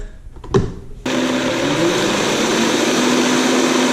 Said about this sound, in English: I got it all in there, so I'll put it in the blender.